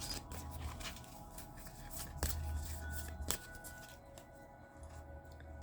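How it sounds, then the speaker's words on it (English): A thick deck of tarot cards is shuffled by hand, giving quiet papery riffles and soft slaps with a few sharper snaps between them, close and faint with no talking. "sorry I'm taking a long time to shuffle"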